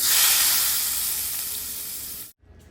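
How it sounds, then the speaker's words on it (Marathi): A loud burst of sizzling as a hot tempering of cumin, curry leaves, green chili and asafoetida in oil hits food, hissing strongly then fading before cutting off abruptly. "आता ही फोडणी आपण यावर घालूया"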